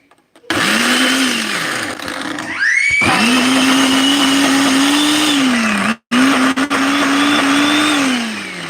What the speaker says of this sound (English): kind of really mix that up a little bit there and blend it a little more